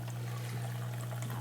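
Water running over sand on a miller table sluice while washing off blonde sand, a steady close wash of flowing water over a constant low mechanical hum, with no talking.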